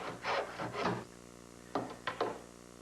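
A hand saw cuts a wooden guardrail piece for a homemade boat. Two back-and-forth rasping strokes are followed by a short pause and then three quicker strokes, all close and fairly quiet, with no one talking.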